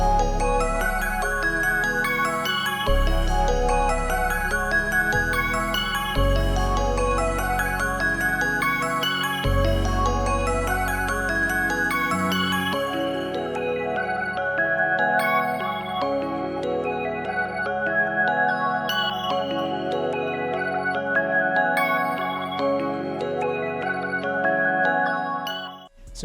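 Energetic beat loop built in FL Studio, with bright chiming, bell-like melody over deep booming bass hits and drums, playing steadily and loudly for about twenty-five seconds before the low end drops away and it fades abruptly.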